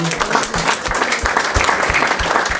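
A church congregation claps together in a brief, lively burst of applause, with some voices mixed into the crowd noise.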